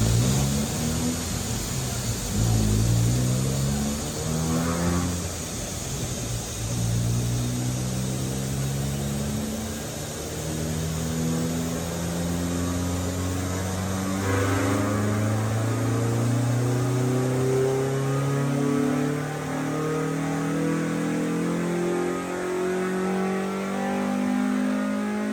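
A Honda D15B SOHC engine in a bracket and grid race car revs continuously on a dyno run, its pitch climbing steadily in loud, sustained sweeps with no pauses.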